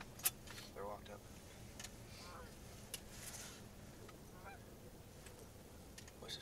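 A flock of geese honks in the distance over a steady outdoor background, with scattered calls at irregular intervals and faint voices talking quietly.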